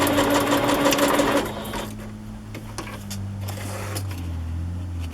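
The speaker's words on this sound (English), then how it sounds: "I'm going to sew across the bottom here too, just catching a little more of that and the rose." A sewing machine stitches across the bottom of a paper card, a fast steady mechanical whir for about a second and a half, then a fainter hum with scattered light clicks as it slows and stops.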